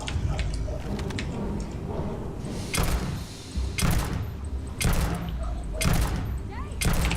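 Grenade blasts in the Fallout video game land in a quick series of four or five loud, sharp bursts about a second apart, over a constant noisy background of battle.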